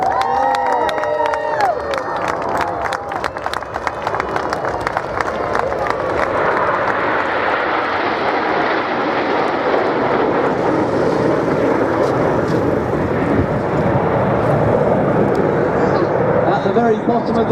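Nine aerobatic display jets at Biggin Hill Airshow rumble in a loud, steady roar, with crowd noise and cheering at the start and a commentator speaking throughout.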